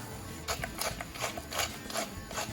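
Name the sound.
grinding pepper and salt with a grinder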